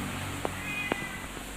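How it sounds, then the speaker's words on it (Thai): A domestic cat at home meows twice, two short calls close by, over a steady background hiss. "อันนี้แมวที่บ้านร้องนะนี่"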